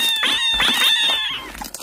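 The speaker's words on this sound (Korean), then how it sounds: "엥, 이게 무슨 소리지? 고양이 소리?" A cat meows in a drawn-out, wavering cry, with a few shorter calls close by and no talking.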